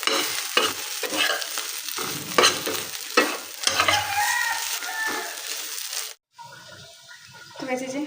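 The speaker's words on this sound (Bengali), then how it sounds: "তো ভর্তাটা ভাজা হয়ে আসছে" Mashed kakrol (teasel gourd) and potato bhorta fries in a pan as a spatula stirs and scrapes it, giving a close, crackling sizzle with repeated scraping strokes. A voice is faintly audible, and the stirring stops near the end.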